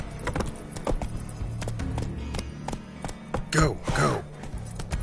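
Roach the horse galloping in The Witcher 3, rapid rhythmic hoof clip-clops on ground with a few snorting breaths, close by, under a rider's short spoken urgings.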